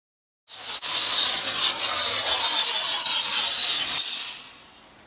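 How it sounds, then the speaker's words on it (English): A flap wheel on a grinder scours the rough edges of plasma-cut steel for a CNC monogram, giving a loud, continuous abrasive rasp with slight pitch changes for about four seconds before it tapers off. "We'll take care of that with the flapper wheel."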